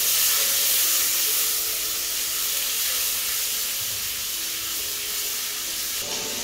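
Water poured into a hot pan with turmeric and salt erupts in a steady, loud steaming sizzle and hiss that holds for several seconds, settling slightly toward the end.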